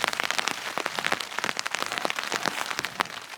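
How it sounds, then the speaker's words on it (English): Steady rain patters densely on a hard surface nearby, a continuous crackling hiss of drops with no voices. "Listen to it rain."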